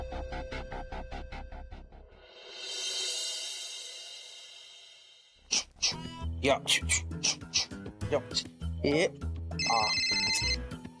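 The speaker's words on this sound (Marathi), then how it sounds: "गुरुचा फोन" A telephone in a Marathi TV serial scene rings with a rapid, pulsing bell pattern for about two seconds, followed by a rising whoosh and then music with voices talking.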